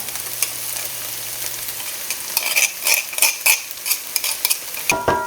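Garlic with onions sizzling in a frying pan as it is stirred, a steady frying hiss broken by a series of scraping stir strokes that grow louder toward the end.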